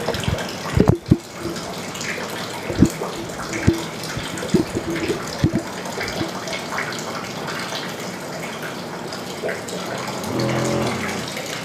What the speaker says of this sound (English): The purpose of this regulator is to limit the flow of the water current.